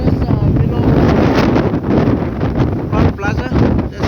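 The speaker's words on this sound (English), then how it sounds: "It's very, very windy." Strong wind roars and buffets against the microphone at Ela Beach, Port Moresby, continuously, loud and rumbling throughout with gusts rising and falling.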